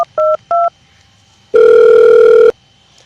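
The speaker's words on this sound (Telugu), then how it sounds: "ఇది వరకు ఫోన్ చేయలేడు, నేననే చేస్తా." A telephone call being placed: two short dialing beeps, then about a second of a steady, loud ringing tone on the line, with no talk.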